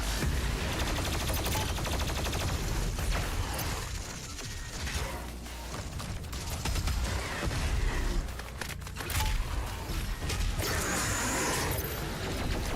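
Gunfire in the video game Doom Eternal, a dense, continuous barrage of rapid shots mixed with mechanical clanks and crunching impacts, loud and sustained with brief dips in intensity.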